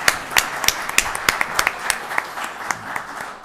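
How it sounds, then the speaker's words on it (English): Audience applause for a group of children at a county Board of Commissioners meeting, a room of people clapping with sharp distinct hand claps over a steady wash, fading slightly toward the end. "Let's give those kids a round of applause"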